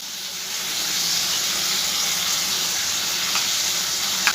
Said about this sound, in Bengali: এবার এর মধ্যে দিয়ে দেব 1 চামচ পেঁয়াজ বাটা।